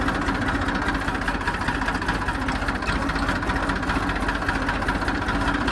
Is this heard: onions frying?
no